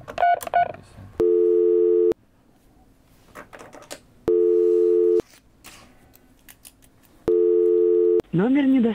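A telephone busy signal repeats in three long steady tone bursts on an unreachable number, separated by stretches of quiet line noise and a brief burst of talk at the start.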